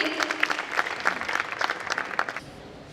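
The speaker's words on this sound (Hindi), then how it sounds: "जोरदार तालियां हो जाए फादर के लिए।" Audience applause for a guest addressed as Father at an evening honoring contributors, a lively burst of many hands clapping with uneven peaks, then tapering off near the end.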